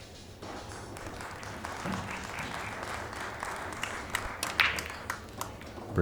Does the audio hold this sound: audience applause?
yes